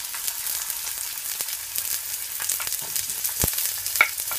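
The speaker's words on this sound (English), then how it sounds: "So now I'm gonna add my onions and my ginger" Chopped onions and ginger frying in vegetable oil, a continuous bright sizzle with scattered pops and crackles, close and fairly quiet, with no talking.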